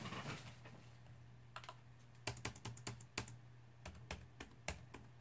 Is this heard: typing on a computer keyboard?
yes